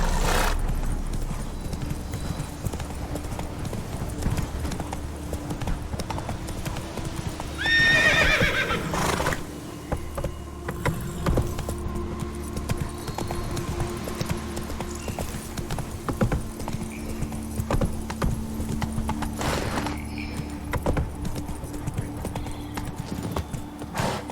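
Geralt's horse Roach in The Witcher 3, steady rhythmic hoof clip-clop carrying on for the whole stretch, with a brief whinny early and faint game ambience beneath.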